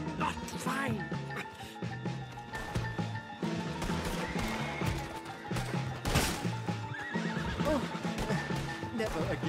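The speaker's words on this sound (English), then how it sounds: "Put Strauss on the back of John's horse, and let's get out of here." Horse whinnying and hooves clip-clopping in the video game Red Dead Redemption 2, mixed with crashes and shots in a busy action scene, with characters talking over it.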